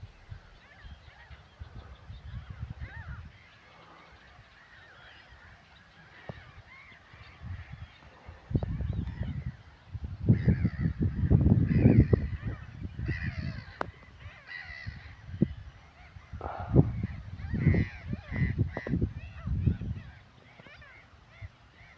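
Birds calling and honking in a marsh in Spain, goose-like cries coming in bursts over a low background hum, some close and loud, others faint and distant.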